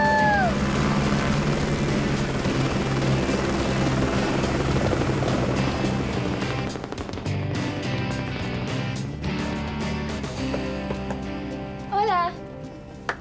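A helicopter flies close by with a steady, loud rotor thrum and engine whine that runs the whole time, with voices talking over it.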